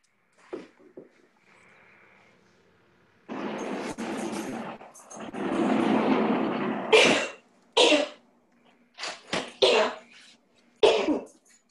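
A few sharp, explosive bursts like a sneeze stand out after stretches of quieter sound and murmuring voices, close to the listener.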